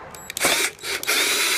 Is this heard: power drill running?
yes